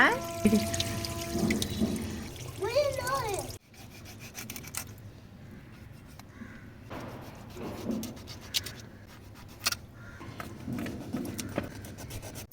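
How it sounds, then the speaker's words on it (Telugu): Freshly scaled pond fish being rinsed clean with water, heard as close, irregular splashing, rubbing and scraping in a quiet room, with a louder burst of handling at the start. "ఇప్పుడు వాటర్ తోటి నీట్గా చేపనైతే క్లీన్ చేసుకోవాలి"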